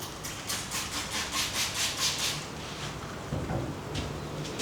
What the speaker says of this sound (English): I have to use Windex and then the scraper right here